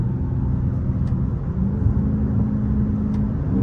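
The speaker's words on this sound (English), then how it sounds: "we got a muffler delete, a mid-muffler delete." A deep, steady exhaust rumble from an SRT car with muffler and mid-muffler deleted, idling low and loud, with a constant throaty drone and no voices.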